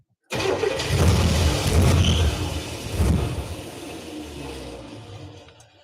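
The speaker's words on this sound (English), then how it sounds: "That starter is no joke, huh?" A limo's starter motor grinds the engine over up close, then the engine catches and runs with a loud, steady low rumble that eases slightly toward the end.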